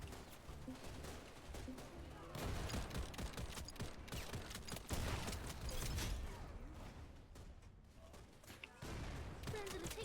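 Gunfire in the video game Wild Assault rattles in dense, continuous volleys of shots and bursts at close to middle distance, loud throughout with brief whooshes, while a voice speaks underneath.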